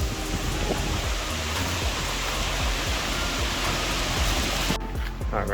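Waterfall roaring close by during a fall hike, a dense, loud, continuous rush of falling water that fills the whole clip without letup.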